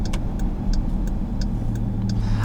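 Steady low engine rumble from a 2018 Dodge Durango SRT 392 heard from inside while driving, a continuous near drone with faint ticking clicks over it and no talk.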